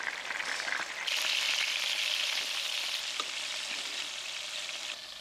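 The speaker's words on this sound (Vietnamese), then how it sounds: "Ớt thì mình cũng chiên sơ giống như khổ qua luôn." Bitter melon and chili peppers fry in hot oil in a pan, a steady bright crackling sizzle that jumps louder after the first second and carries on evenly without talk.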